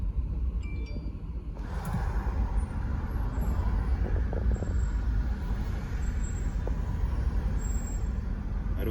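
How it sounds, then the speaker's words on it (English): Road traffic in a jam, heard from inside a car: a low, muffled rumble of engines with a brief hiss like a bus or truck air brake early on, fairly quiet and continuous, with no talking. "We're in the traffic."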